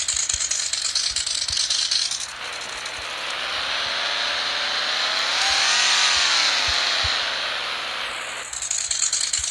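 Ford Foxbody engine in the Offroad Outlaws video game, revving hard while stuck in mud: a loud, sustained rise and fall in pitch over a rattling idle, alone with no talk.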